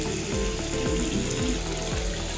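Water is poured into chicken karahi frying in a pan, a steady close sizzle and hiss with a repeating rhythmic scraping or ticking underneath, no voices.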